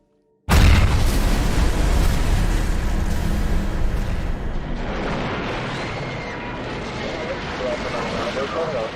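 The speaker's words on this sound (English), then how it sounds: "a 15-pound bomb exploded in the Temple of Peace" A 15-pound bomb exploding in the Temple of Peace, a sudden loud boom bursting from silence, then a long rumbling roar that slowly fades into a noisy wash.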